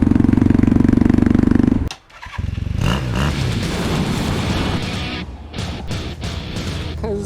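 A modified Buell Blast ratbike motorcycle runs with a loud, rough single-cylinder throb that briefly drops out, then continues with uneven clattering and revving, heard close up.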